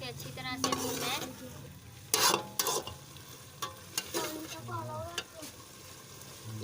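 Aloo keema of minced meat and potato fried in ghee in a pan and stirred, with a continuous sizzle broken by loud scraping strokes of a spoon against the pan at irregular intervals.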